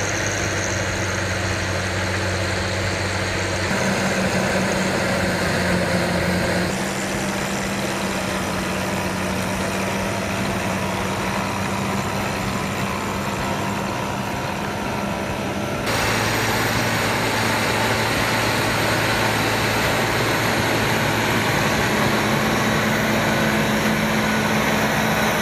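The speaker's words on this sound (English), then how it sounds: "The soil is worked with tractors and cultivators to break down any large lumps." A heavy tractor engine drones steadily and loudly for a long stretch while cultivating soil to break up large lumps, its pitch shifting a few times as it works, with no talking.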